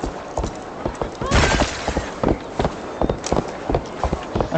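A horse gallops in Assassin's Creed Valhalla, its fast, sharp hoofbeats close and continuous, with a louder burst of clatter early on and a voice talking over parts of it.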